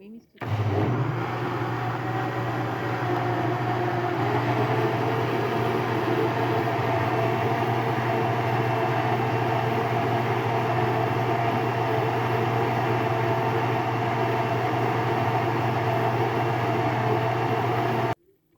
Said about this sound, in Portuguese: Aí depois eu adiciono a farinha, para não ficar tão pesado no liquidificador, tá bom? Aí bato de novo